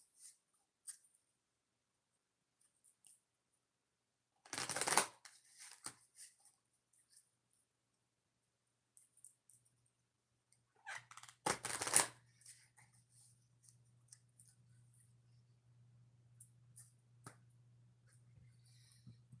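Oracle cards are shuffled in two quick riffling bursts, close and crisp, among faint handling clicks and a low hum.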